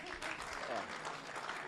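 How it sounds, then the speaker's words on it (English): Conference audience at a national youth, peace and security event clapping for themselves, a dense, continuous round of applause from a roomful of people, fairly close. "So if you are a youth, can you clap for yourself?"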